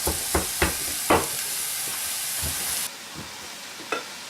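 Chicken sizzles in a pan over medium-high heat with a steady frying hiss, broken by several sharp clacks of stirring, and the hiss drops noticeably quieter partway through.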